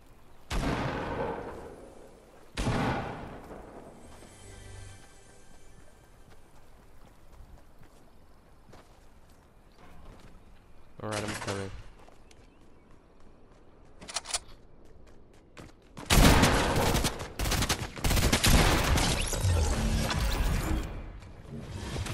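Gunfire in Fortnite crackles as sharp bursts, scattered single shots early, then a loud rapid volley near the end, over a quiet game background.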